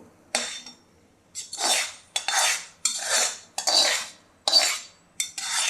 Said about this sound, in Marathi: आता हे कारलं आपण सगळं या कढईमध्ये काढून घेऊ